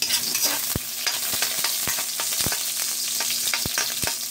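Garlic frying in a pan for a bitter melon (ampalaya) vegetable dish gives a steady, loud sizzle. Sharp clicks of a utensil stirring against the pan repeat at irregular intervals throughout.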